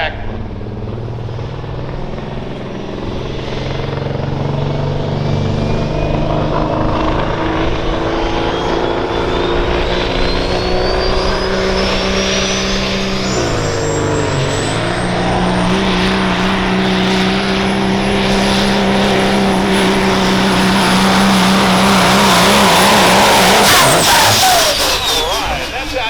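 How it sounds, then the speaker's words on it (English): Hot rod semi truck engine at a truck pull event, roaring and revving continuously and loudly for the whole stretch, pitch climbing steadily as it strains under load, with a brief dip midway before surging again. "Watch this truck. He'll lift that front end up and get it locked into the track."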